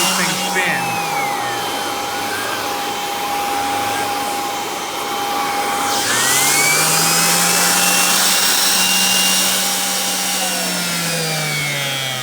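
Kirby Sentria G10D upright vacuum with an air-powered turbo brush attachment spinning fast, a steady loud whirring hum with a rising tonal whine that holds throughout.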